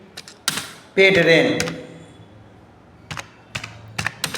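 Someone types on a computer keyboard while entering an accounting voucher in Tally, with scattered sharp key clicks and short bursts of tapping. A voice briefly speaks between them.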